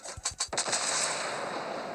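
Naval guns of the cruiser USS Brooklyn in the World of Warships Blitz game fire a quick salvo of four or five booming shots, then a lingering rumbling tail fades out.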